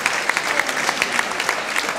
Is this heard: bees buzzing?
no